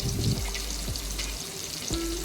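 Close, steady sizzle of pomfret fish frying on a tawa, a dense crackling hiss with a few soft taps and shifts of the pan.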